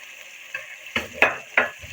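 Mungra radish pods fry in a pan over a faint sizzle while a utensil stirs them, giving four or five sharp scraping clacks at uneven intervals, close and clear.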